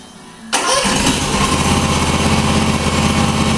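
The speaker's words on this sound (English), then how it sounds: "Now we're going to start the engine." A 2013 TRX-42 hydrostatic remote-controlled lawn mower's small engine starts abruptly after a brief quiet moment, then runs loud and steady at a close, buzzing idle.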